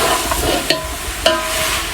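Carrots, potatoes and peas stirred and frying in a pan, a steady low sizzle with two sharp spoon scrapes against the metal, close and alone.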